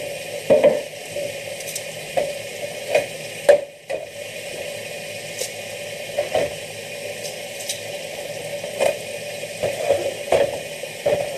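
Shrimp for cilantro lime tacos sizzle steadily in a hot pan while a utensil scrapes and taps against it in a series of irregular knocks, close and fairly loud.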